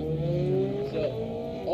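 A Subaru WRX races through an autocross course, its engine holding a strained, steady drone that climbs sharply in pitch as it revs near the end, loud and close with no talk.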